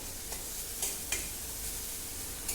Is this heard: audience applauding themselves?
no